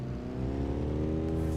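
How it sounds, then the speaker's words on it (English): A Mazda MX-5 drift car chasing a Nissan S14 at a drift competition, with an engine revving steadily and climbing in pitch, loud and sustained with strong harmonic whine and no voices. "Luis Trevino in the MX-5 will pedal that car up onto the door of the S14"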